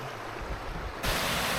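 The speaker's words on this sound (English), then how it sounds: "This is kind of one of the first waterfalls that you're going to come to." A waterfall on Gunnerside Gill, a steady broadband rush of falling water that grows noticeably louder and closer partway through, with no voices.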